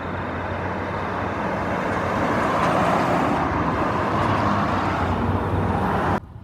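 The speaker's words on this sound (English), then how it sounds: "Here's some traffic." Road traffic in the Waikato passes close by, a loud swelling roar of tyres and engines that peaks mid-way and cuts off abruptly at the end, with no speech.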